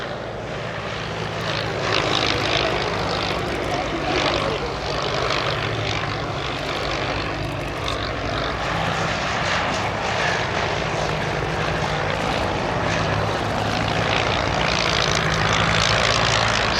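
A de Havilland DH60 Moth biplane's propeller engine drones steadily and fairly loud at the Shuttleworth Fly Navy airshow, a continuous rumble sustained without a break and with no talk over it.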